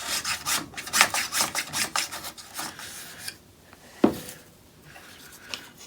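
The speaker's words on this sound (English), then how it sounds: "a quick little scraping to smooth out" A teak wood spatula is scraped to smooth it, a quick series of rhythmic rasping strokes up close, then a pause with a single sharp scrape and faint handling.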